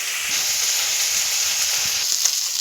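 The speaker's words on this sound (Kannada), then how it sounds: "ಚಕ್ಕೆ ಲವಂಗೆಲ್ಲ ಹಾಕಿ ಚೆನ್ನಾಗಿ ಫ್ರೈ ಮಾಡಬೇಕು" Cinnamon and cloves fry in a hot pan, giving a steady close sizzle with soft hiss that holds evenly throughout, no voices over it.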